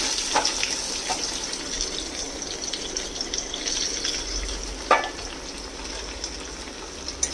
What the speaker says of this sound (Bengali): দিয়ে এটাকে হালকা হাতে ভাজবো